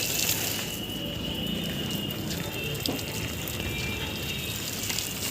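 Water gushes and splashes steadily on a rooftop where potted plants, including chili and pumpkin, are being washed, a continuous close hiss of running water with a few faint clatters.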